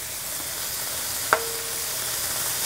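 Beef cooks in a pan, an even close sizzle running throughout with a single sharp metallic tap partway through.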